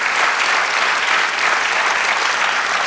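A church congregation applauds during a sermon, a steady, dense burst of clapping filling the room at close range, loud and unbroken with no voices on top.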